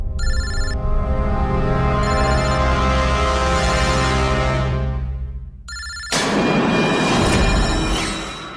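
A telephone rings loudly in a dramatic indoor scene, with repeated ringtone bursts over sustained background music that swells near the end.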